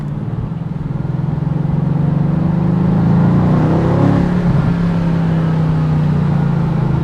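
A Mercedes-AMG GT C sports car engine heard from inside while driving, a loud steady drone that swells and shifts pitch through downshifts, continuous with no talk.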